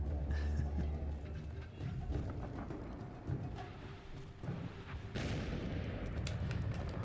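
Gunfire in The Bureau: XCOM Declassified, including M1911 pistol shots, heard as a dense, continuous battle din of repeated bangs and low rumble with no clear gaps.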